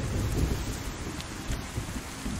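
Steady, loud rain pours in a survival video game at the Solnichniy spawn on an official server, with a low thunder rumble rolling underneath throughout and no voices.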